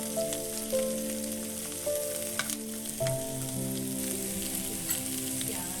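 Aromatics frying in a little vegetable oil in a pan beside pork ribs, a close, steady sizzle broken by a few stirring knocks and scrapes, with no voices.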